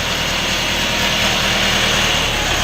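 A Shifeng 404 four-cylinder tractor engine runs at a dealership, a loud, steady, close rumble with a dense broadband roar and no voices over it.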